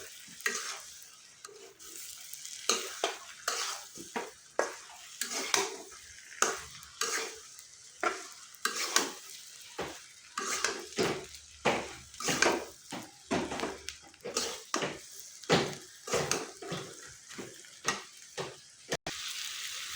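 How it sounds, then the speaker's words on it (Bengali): Raw mango pieces being stirred into spices in a pan for Bengali pickle, with a steady rhythm of loud scraping strokes and soft sizzling close by, heard alone. "এখন আমি আমগুলা দিয়ে দেব। আমগুলা মশলার সঙ্গে সুন্দর করে মিশিয়ে নেব।"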